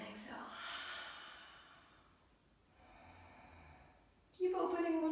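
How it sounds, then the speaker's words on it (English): A long, audible exhale during a flowing yoga dance session, near and breathy, then fading, with a brief sharp intake or voice at the end. "And exhale."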